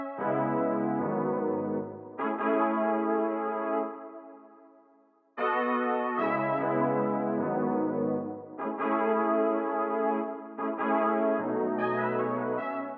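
Jazzy horn-section chords from the TPN preset of Roland's SRX Orchestra plugin play in separate stabs and held swells, some fading out before the next chord enters, with no talking.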